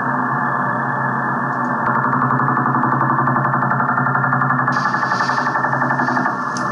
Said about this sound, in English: what you're hearing is the Russian woodpecker radar.